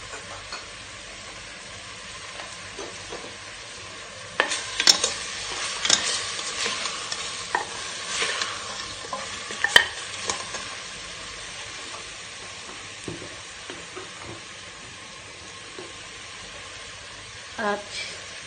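Beef sautéing in a pan, with stirring and scraping bursts over a steady low sizzle; clattering utensil sounds cluster mid-clip and again near the end, moderately close.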